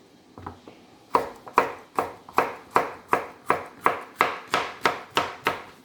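A knife chops through potatoes on a cutting board in a steady run of about eleven sharp, evenly spaced strokes, close and crisp, with no talking.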